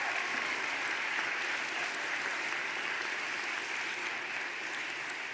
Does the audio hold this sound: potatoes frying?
no